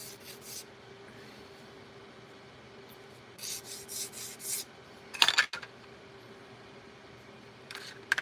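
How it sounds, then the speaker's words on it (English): A sanding block with sandpaper rubbing along the edge of a paper model piece, squaring it off: soft, quiet raspy strokes in short bursts, a few louder scrapes and clicks near the end, no talking. "by taking the sandpaper, sand block, and doing this is, it's making this edge more square"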